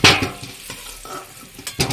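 Fried pieces are lifted out of hot oil in a pan while cooking meat, with clinks of a utensil against the pan, scraping, and a soft sizzle, loudest at the start and again near the end.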